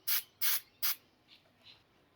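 Clear coat sprays from an aerosol can into a handlebar grip on a pit bike in three loud, close, evenly spaced bursts of hiss, followed by two much fainter short puffs.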